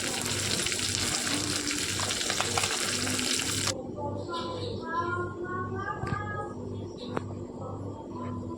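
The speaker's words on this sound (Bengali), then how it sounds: "এবার মাছগুলো আমি ভেজে নিচ্ছি।" Fish fries in oil in a pan with a loud, steady crackling sizzle for roughly the first half. It then cuts abruptly to quieter watery trickling and light clinks.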